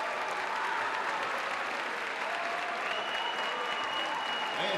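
An audience gives sustained, dense applause for a Caucasian folk dance group at a Turkish folk dance competition, and the clapping stays even and loud throughout.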